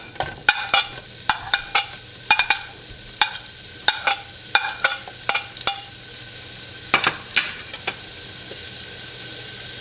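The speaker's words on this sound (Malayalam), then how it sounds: "എണ്ണ ചൂടായിട്ടുണ്ട് നമുക്ക് ആ ചെറിയ ഉള്ളിയും സവോളയും കൂടെ അരിഞ്ഞ് ഇട്ട് കൊടുക്കാം" Chopped shallots and onions fry in hot oil in a pan, a steady sizzle broken by a string of sharp scraping clicks as a spoon stirs against the pan, close and fairly loud with no voices.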